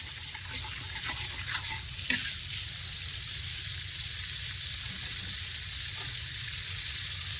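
Buttered sauce for a pitik dish sizzles steadily in a pan, a continuous close frying hiss with a couple of brief louder pops early on and no voices.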